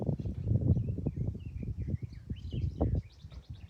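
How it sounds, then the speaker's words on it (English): Birds chirp faintly in the distance outdoors, a scatter of thin high calls sitting behind louder low rustling and thumping noise close by. "there are some birds back down over there somewhere"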